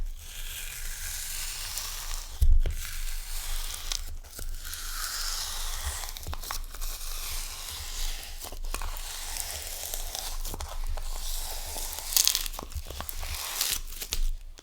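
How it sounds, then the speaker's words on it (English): Close, soft squishing and crackling of gritty, packed silica sand slime being pressed and pulled, with irregular sticky pops and crinkles throughout. "I love the ASMR that sand slime can give."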